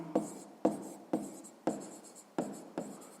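A pen writing on paper during a sixth-grade maths exercise, six short scratchy strokes close up at an even pace, each starting sharply and trailing off, with no talking.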